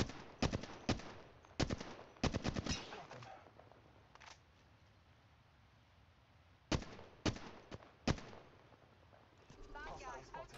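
Sharp gunshots in the Apex shooter game come in quick clusters of two to four cracks, with a long quieter stretch between volleys, and a voice speaks faintly underneath.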